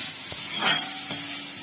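Salted vegetables for veg noodles sizzle in a pan and are stirred once, making a brief scrape over a continuous low frying hiss.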